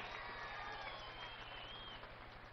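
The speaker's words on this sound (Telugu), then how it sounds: "గట్టిగా చప్పట్లు కొట్టి అభినందించాలి." A crowd at a public event in Andhra Pradesh applauds the Polavaram project team, steady dense clapping that holds evenly throughout without a break.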